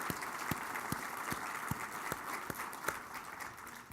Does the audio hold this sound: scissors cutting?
no